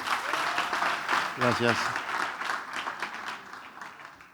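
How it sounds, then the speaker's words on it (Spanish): A conference audience breaks into applause, a dense wash of clapping lasting several seconds while someone briefly speaks a word of thanks over it. "Y un aplauso"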